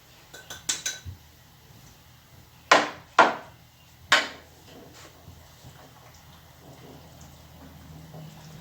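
Utensil stirring and tapping against a bowl of onion powder, ginger and cayenne for alkaline mac and cheese, a few quick light clinks, then three louder ringing knocks, close and without talking.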